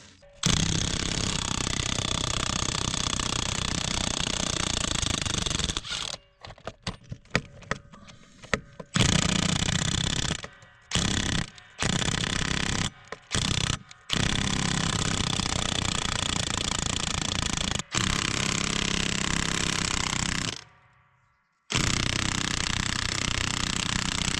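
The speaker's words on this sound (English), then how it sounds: "undoing 100-year-old nuts" Old nuts being undone on a Kirovets tractor's wheels with a loud pneumatic impact wrench, long rattling hammering bursts broken by short pauses and a brief silence near the end.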